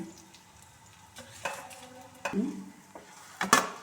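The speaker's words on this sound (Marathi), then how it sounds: "त्या तेलातच आता उडदाची डाळ गुलाबी रंगावर परतून घे" Urad dal frying in a spoonful of oil in a pan, a soft sizzle under occasional scraping stirs and a couple of sharper clanks of a utensil against the pan, fairly quiet and close.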